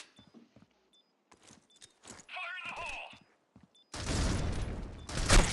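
Gunfire from an esports shooter video game match in a grand final erupts as a loud, dense burst near the end, after quieter scattered in-game sounds and a commentator's voice.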